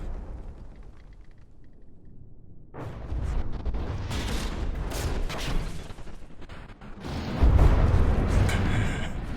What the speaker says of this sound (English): the Bulwark is completely capable of shooting every single missile down